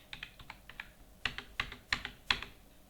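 Computer keyboard keys tapped in short bursts, light soft clicks at first, then several sharper, louder keystrokes spaced about half a second apart, close and alone in a quiet room.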